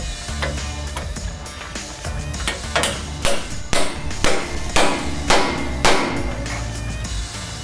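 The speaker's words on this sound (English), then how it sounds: "you're gonna hit the shim until you hear a change of tone" A hammer strikes a shim again and again during pintop lift and suspension work on a new Ford F250, giving sharp metallic blows about every half second, close and loud over a dense background of workshop noise.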